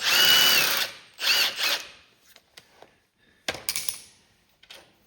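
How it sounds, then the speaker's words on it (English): Power tool or ratchet bursts while Allen head bolts are removed from the rock shaft lever arm of a Cub Cadet Cyclops mower, with two longer whirring runs followed by short clicks and a final burst, close and fairly loud. "we're going to take them bolts right out"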